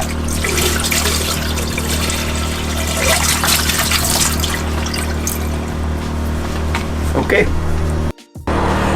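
Water gushes and trickles steadily as an Airstream Sport travel trailer's black and gray holding tanks drain, with a low hum underneath and a sudden brief cutout near the end.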